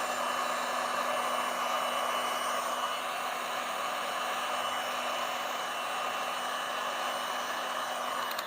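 A heat gun blows loud and steady on a resin countertop sample imitating larimar, a close, unbroken whooshing hum with a faint motor tone and no talking.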